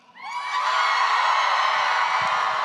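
A fan convention crowd at a Helluva Boss voice actor panel in Salt Lake erupts into loud cheering and high whoops that swell quickly and stay at full volume.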